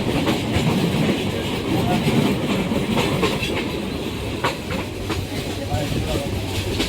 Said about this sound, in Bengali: আমাদের ট্রেন এখন যাচ্ছে লাওয়াছড়া জাতীয় উদ্যানের মধ্য দিয়ে।